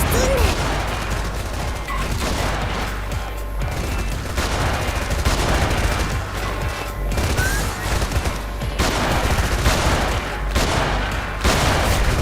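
Loud, continuous volleys of gunshots fill a ranked PvP match in Freedom Wars Remastered on PC. The shots overlap into a steady roar of fire with no pause.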